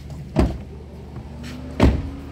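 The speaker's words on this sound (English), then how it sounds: "Let's open the door." The door of a 2012 Ford Focus opening, heard close up as two distinct mechanical clunks about one and a half seconds apart, over a faint steady background hum.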